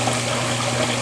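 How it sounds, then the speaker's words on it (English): Water pours steadily into an aquarium sump with no filter sock, giving a dense, continuous splashing rush over a low pump hum, close and loud. "Look at that water flow coming out of here now."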